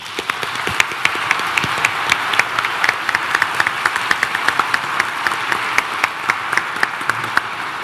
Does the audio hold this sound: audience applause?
yes